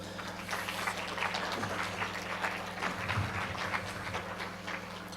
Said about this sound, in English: So I just want to give the panelists maybe one more round of applause.